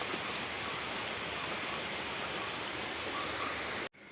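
Heavy rain pours in a steady, dense hiss that holds evenly for about four seconds, close and loud, before cutting off abruptly near the end.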